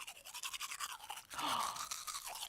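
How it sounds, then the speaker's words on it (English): Toothbrush scrubbing teeth, a steady back-and-forth bristle rasp heard up close that grows louder and denser partway through, with no voices. "that sounds like brushing teeth"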